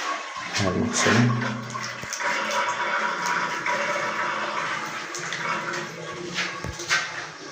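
A bathroom sink faucet runs in a continuous, fairly loud rush of water close by, with a few brief bumps and faint voices under it.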